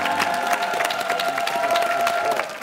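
Studio audience applauding on a Korean TV variety show stage, a dense steady clapping with some cheering that stays loud throughout and tapers slightly at the end.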